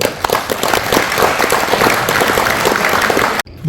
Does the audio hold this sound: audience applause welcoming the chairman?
yes